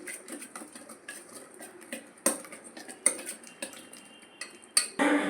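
Potato pieces being stirred in a pan, heard as a series of close metallic scrapes and clinks of a utensil against the pan, irregular and fairly loud, with no voice.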